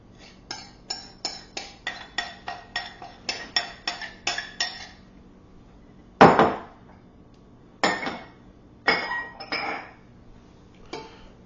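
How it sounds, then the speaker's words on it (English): Pretzel dough with three cups of flour being mixed in a bowl, heard as a run of regular, close knocking clinks from a spoon or paddle against the bowl, then a few heavier, scraping thumps after a pause. "So we're going to mix this 3 cups of flour in."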